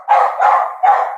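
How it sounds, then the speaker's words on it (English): A dog barks three times in quick succession right after a doorbell rings indoors, each bark loud and close, with short gaps between them. "That's my dog."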